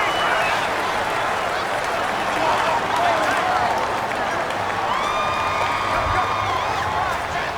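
Stadium crowd in the Madden NFL 19 football video game, a steady loud roar with cheering and whoops continuing throughout, with a commentator talking over it.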